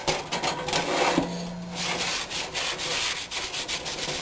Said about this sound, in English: this pan is actually so well seasoned that even with all this scrubbing, I'm starting to lose it there